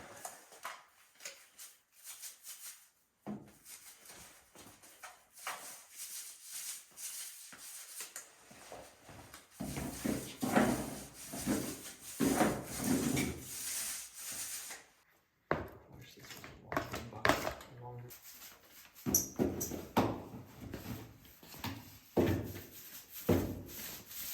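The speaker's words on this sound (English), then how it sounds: "You only need a 3/8 snap roller and start rolling." A 3/8-inch snap roller spreads epoxy across a floor in an off-grid home, giving a soft, sticky rolling and rubbing sound in continuous strokes with short pauses, close by and moderately loud.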